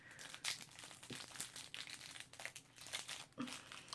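Plastic wrapping on a tarot card box is pulled and torn off in close, quiet bursts of crinkling and tearing, with short gaps between handfuls.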